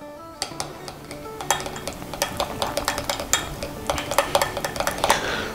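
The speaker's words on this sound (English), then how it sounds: "Give it a light stir" Gelatin mixture stirred lightly with a utensil in a bowl: a steady string of bright clinks and taps against the side, near and fairly quiet, speeding into quick irregular ticks with no talking.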